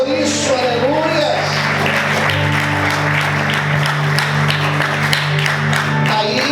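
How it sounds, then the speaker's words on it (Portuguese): A church congregation applauds during a sermon, brisk, dense clapping running throughout, mixed with steady voices and a sustained musical tone underneath. "você pode aplaudir a Deus por isso"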